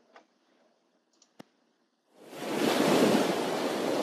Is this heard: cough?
no